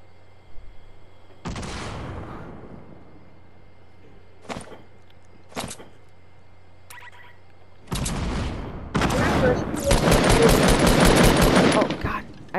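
Gunfire in a Fortnite match: a few isolated sharp shots early on, then dense rapid automatic bursts toward the end, fairly loud, with players talking over a quiet background.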